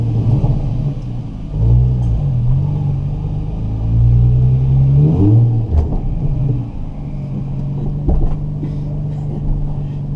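Nissan 350Z engine rumbling low and steady from inside the car while driving slowly, with a few gentle rises in revs and no voices.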